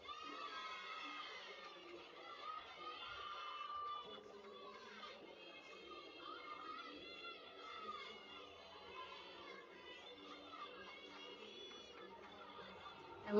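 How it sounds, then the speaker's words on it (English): NC State gymnastics team cheering from the sidelines at an NCAA regional meet, a continuous wash of high shouts and chatter carrying on at moderate level throughout. "I love the way NC State's team is cheering her on."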